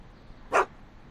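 A single short, close bark from Einstein, Doc's dog, in the video game Back to the Future, set against quiet background ambience.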